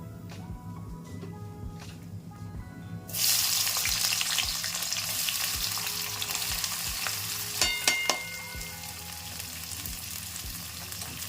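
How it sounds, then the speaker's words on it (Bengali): Onions tipped into hot oil already holding bay leaf, dried red chillies and cumin erupt into a loud, dense sizzle after a few quieter seconds, with stirring clatter and scraping. "এবার পেঁয়াজগুলো ভেজে নেব"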